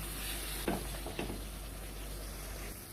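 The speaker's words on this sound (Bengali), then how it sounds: "এবারে এই মশলাটাকে আমি মোটামুটি পাঁচ মিনিট মতন ভালো করে কষিয়ে নেব" Masala with tomato puree sizzles and fries in a pan, a soft continuous hiss with a couple of stirring scrapes, heard close and fairly quiet.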